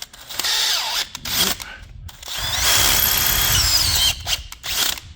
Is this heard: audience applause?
no